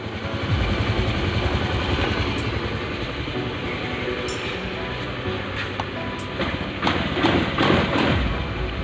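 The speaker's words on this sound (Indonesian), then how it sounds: "di starter langsung di RPM rendah dia" A Honda Beat FI scooter with a faulty TPS sensor idles at low RPM after starting, a steady, moderately loud engine drone that holds even for the whole stretch with no voices.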